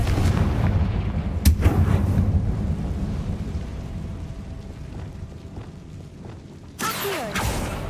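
Confringo fire spell explosions in the video game Hogwarts Legacy, deep booming blasts with a rumbling low roar and a couple of sharp cracks, followed by a later burst of noise.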